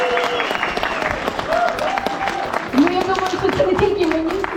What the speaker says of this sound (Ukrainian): то найгучніші оплески було, напевно, пану Василю, так?